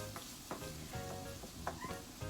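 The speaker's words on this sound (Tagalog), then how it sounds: "Ayan, halu-haluin lang natin hanggang sa maluto ang ating ground beef." Ground beef frying in a pan while being stirred for spaghetti, a steady soft sizzle with occasional scraping strokes from the spoon, close and fairly quiet with no talking.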